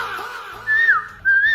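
A person whistles a tune in two sustained, sliding phrases, clear and close, the second entering after a short pause, with faint background noise and no speech.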